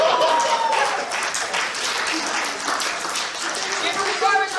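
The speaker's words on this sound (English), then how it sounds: "Give her a round of applause!" A convention crowd at a charity game show bursts into loud, sustained applause, with cheers and voices mixed through the clapping and a swell toward the end.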